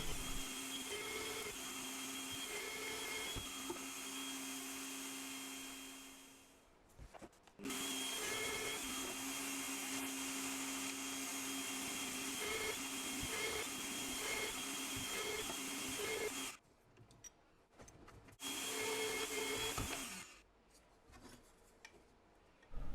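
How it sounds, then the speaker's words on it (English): A power drill with a Forstner bit whirs steadily for several long stretches boring holes in wood, cutting out briefly between runs, close and loud with a grinding edge. "I'll drill out all these holes with a Forstner bit."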